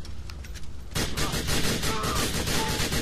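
Sustained automatic gunfire in the video game GTA IV, a loud, dense burst of rapid shots that builds after a quieter stretch and continues steadily to the end, with game noise underneath.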